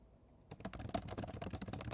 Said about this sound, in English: your typing is so loud